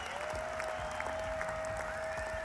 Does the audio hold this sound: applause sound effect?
yes